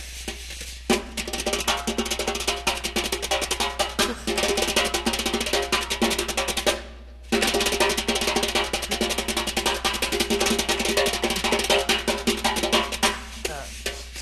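Drum kit played in tap-dance style, echoing Gregory Hines' rhythms: dense, syncopated strikes and cymbal work in a loud, continuous groove, with a brief drop to silence midway before the pattern resumes.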